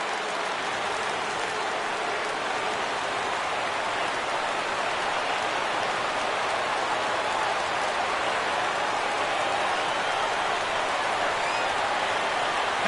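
A baseball video game crowd roaring continuously on their feet, a dense, even wash of cheering and clapping that stays loud for the whole stretch.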